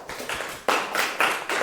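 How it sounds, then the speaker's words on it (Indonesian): A classroom of students claps for a classmate after her correct answer in a high school math lesson, a short burst of close, dense hand claps in uneven waves. "tepuk tangan buat Malia"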